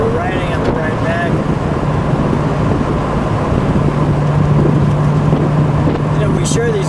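A red 1986 Ford Mustang GT 5.0 liter convertible with a five-speed runs at a steady, low engine rumble while driving, mixed with heavy wind and road noise, and a voice briefly speaks over it at the start.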